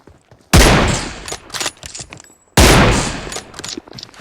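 Two loud, close bursts of rapid gunfire in a shooter video game, each a sharp blast decaying over about a second with scattered smaller shots between, no talking.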